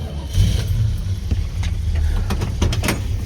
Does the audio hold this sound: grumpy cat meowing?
no